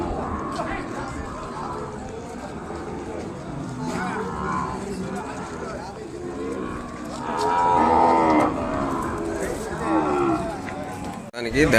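Ongole bulls and calves at a rural cattle market, with repeated loud moos and lowing over a dense crowd murmur and voices, the calls swelling and fading across the scene.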